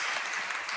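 Audience applause at a speaker showcase panel discussion, a dense, steady burst of many hands clapping at once, loud and close for under a second.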